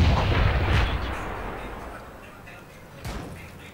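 A heavy tank cannon shot in a video game lands as a deep booming blast with a long rumbling decay, followed by a second sharper report, with a voice talking faintly underneath.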